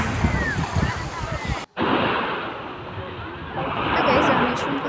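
Ocean waves wash onto the beach at Rameshwaram in a continuous surging roar with wind buffeting the microphone, the surf swelling louder near the end.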